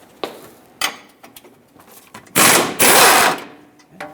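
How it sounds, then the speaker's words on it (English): Hand ratchet working a 17mm bolt on a 2018-2023 Subaru Crosstrek front lower control arm, giving a few sharp clicks early on, then two long loud bursts of rapid ratcheting close by, with no talk. "you either need a swivel socket or a hand ratchet to take this off"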